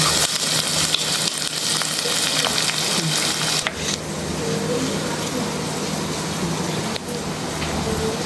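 Onions sautéing in a pan while cooking a dried vanjaram fish curry, a steady loud sizzle with stirring scrapes throughout, one brief clatter near the middle.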